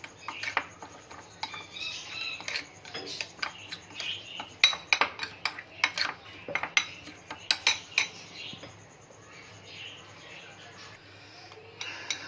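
Peppers being tossed and mixed in a bowl for chicken fajitas, with repeated clinks and scrapes of a utensil against the bowl, close and moderately loud, in an irregular flurry that eases off toward the end.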